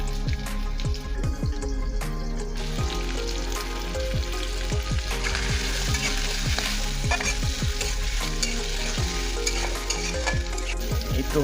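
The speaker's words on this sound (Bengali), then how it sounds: "এবার পেঁয়াজ দিয়ে দিব পরিমাণ মতন।" Onions frying in a pan with sea shrimp, garlic and bay leaf make a loud, continuous sizzle with crackling spatter and clattering strokes from stirring throughout, and no voices.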